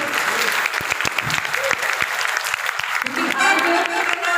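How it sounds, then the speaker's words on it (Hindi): A seated audience at a Bhagavat Katha religious gathering breaks into loud, sustained applause, with dense clapping throughout and a voice heard over it near the end. "एक बार और जोरदार ताली बजाओ।"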